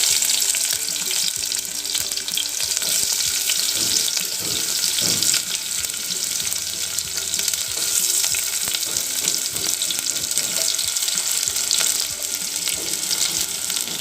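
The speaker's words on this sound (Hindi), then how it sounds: "अभी ये तेल गरम हुआ है, इसमें हम ओनियन डालेंगे।" Onion sizzles steadily in hot oil in a pan, with capsicum to follow: a loud, continuous, hissing fry that stays constant, with faint stirring noises now and then.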